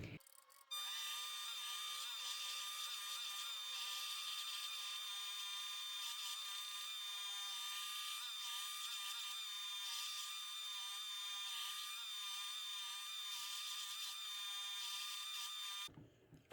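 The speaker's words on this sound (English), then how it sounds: "now I like to go in and do the finger choils right here on the belt grinder" A belt grinder shaping finger choils on a knife, a steady high-pitched whine with tonal ringing that runs unbroken for about fifteen seconds, then cuts off.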